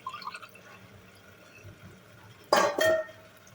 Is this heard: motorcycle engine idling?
no